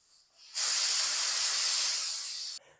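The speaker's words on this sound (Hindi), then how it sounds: "जो कुकर का प्रेशर है वो हम सारा निकाल देंगे।" A pressure cooker releases a loud, steady hiss of steam for about two seconds, starting abruptly after a quiet moment and cutting off sharply.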